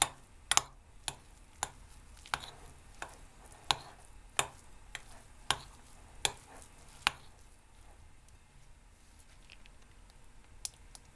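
A spoon stirs a mayonnaise-bound mushroom appetizer filling in a bowl, making a run of crisp, evenly spaced clinks and taps close by that thin out and soften toward the end, over a quiet background.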